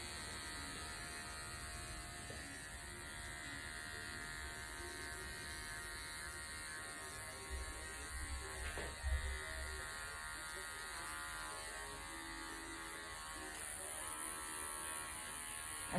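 Hair clippers with a number one guard buzz steadily and faintly through a gents' haircut, a constant electric hum with slight shifts as they move through the hair, and no talk.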